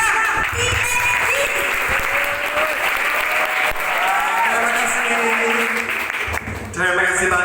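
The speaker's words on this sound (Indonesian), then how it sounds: "Mari kita sambut dengan tepuk tangan yang sangat meriah" Loud, sustained applause from a seminar audience at an Islamic boarding school welcoming a speaker, steady for several seconds, with voices talking and calling out over it before a brief lull and a renewed burst.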